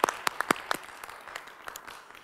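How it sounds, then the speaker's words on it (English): Sparse, scattered clapping at a public school board meeting, a few distinct near claps at first that thin out into faint, irregular claps from a small audience. "they deserve that applause when they see this"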